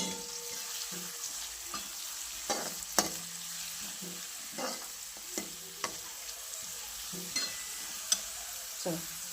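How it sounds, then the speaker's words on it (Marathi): Onion frying quietly in a pan, a faint low sizzle punctuated by irregular scraping and tapping strokes of a spatula as it is stirred, with no voices. "आता कांदा चांगला आपण लाल भाजून घेऊ"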